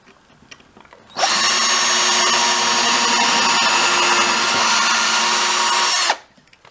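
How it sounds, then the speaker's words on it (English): A power drill boring pilot holes into wood through a clamped template, one loud steady whine lasting about five seconds that starts and stops sharply, no talking. "drill here through my template to put my starter holes or my pilot holes into the wood"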